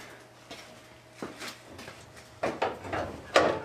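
A Chevy square body truck door is shut several times: soft knocks and then sharper metallic clunks near the end, close by, with quiet gaps between.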